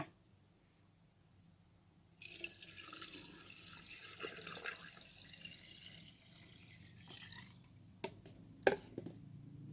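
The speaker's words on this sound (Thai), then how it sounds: "น้ำเชื่อมของเราจะต้องเป็นอุณหภูมิห้องนะ เราจะเทลงโหลหมักเลยค่ะ" Room-temperature sugar syrup poured into a fermentation jar for mango tepache beer, making a steady close liquid pour and splash that starts after a quiet moment and ends with a few sharp knocks and drips.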